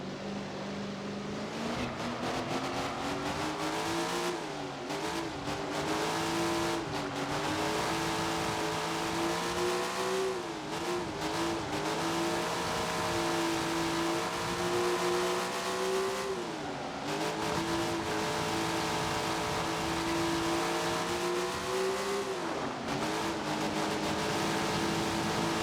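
Sprint car engine in Tony Stewart's Sprint Car Racing video game, a loud, continuous high-revving roar that rises and dips with throttle changes across several laps.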